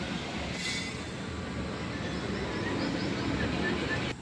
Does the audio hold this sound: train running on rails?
yes